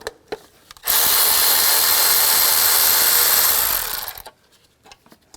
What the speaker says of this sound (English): Take a 12mm socket, take this bolt out.